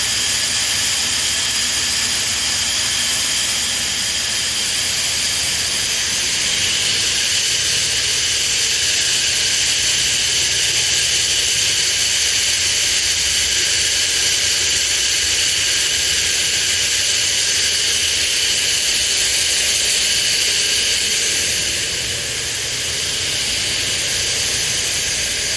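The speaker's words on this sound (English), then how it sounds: "This is our grinder mixer. You can see it is filling up." A farm grinder mixer filling with sheep feed of corn, barley and roasted soybeans, a constant loud roaring hiss of machinery that stays steady and close for the whole stretch, with no voices.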